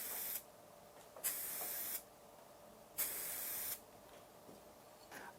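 Aerosol spray paint misting onto a car door being repaired with colour-matched Colorspray Omnicoat, heard as three separate steady hissing bursts of roughly a second each, the middle one longest, plus a brief trailing puff near the end.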